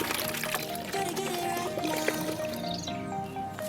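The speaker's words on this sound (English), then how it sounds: "Fill a tub up with some Fanta." Fanta poured into a tub gives a continuous close splashing gush of liquid with bubbly, fizzy dripping detail, steady and moderately loud throughout.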